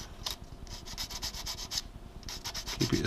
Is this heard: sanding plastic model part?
yes